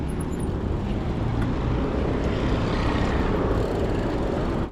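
Dense, continuous roadway roar from busy traffic at Hyde Park Corner in London, heard from a bicycle, with cars and heavier vehicles blending into a steady loud rumble throughout.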